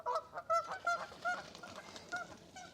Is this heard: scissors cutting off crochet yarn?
no